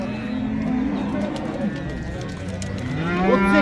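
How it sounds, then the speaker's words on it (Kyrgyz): Cattle at a livestock market in Jalal-Abad, brought from Bazar-Korgon district, low drawn-out mooing rising near the end over steady crowd murmur and people talking in the background. "Мынакей туугандар Базар Кор районунан ушундай жакшы уйлар келиптир."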